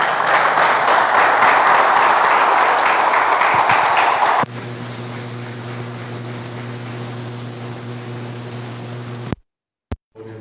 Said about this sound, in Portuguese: que as palmas louvam o nome do Senhor